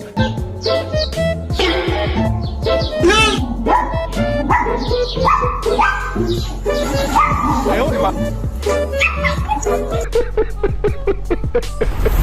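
A puppy yips and barks repeatedly in quick, high-pitched bursts, close by, with a few whimpers mixed in.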